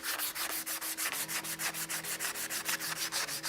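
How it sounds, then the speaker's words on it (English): Coarse emery cloth rubbing back and forth over a truck swing arm spindle during a ZR2 rear bumper install, a steady rhythm of rasping strokes, roughly five or six per second, close and alone. "I just got some coarse emery cloth here, and I'm just gonna sand it kind of down and get it all cleaned up"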